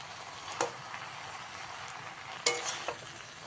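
Malabar spinach leaves being stirred in a cooking pan, with soft scraping and rustling strokes and a faint low sizzle, a couple of sharper spatula clacks standing out.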